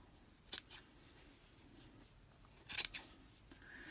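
Scissors snip yarn loops off a homemade pom pom, a few short, crisp metallic cuts heard close up in a quiet room, a single snip followed later by a quick cluster of two or three.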